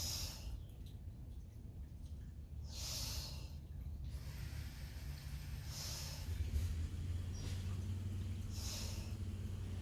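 Slow, audible breaths in and out during an exercise session, several soft airy inhales and exhales spaced a couple of seconds apart over a low steady background.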